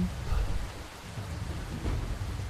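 Light rain in the video game Werewolves in Heavy Rain makes a steady, soft hiss over low, rolling rumbles, continuous and moderately quiet with no voices.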